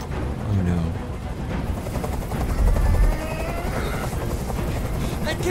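Helicopter rotor noise from the video game Detroit: Become Human, a steady loud rumble mixed with gunfire-like bursts and other game sounds, with a voice talking over it.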